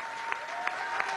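An audience claps loudly and steadily in a dense burst of applause honoring a comrade at a communal production plan event, with a few sharper claps standing out.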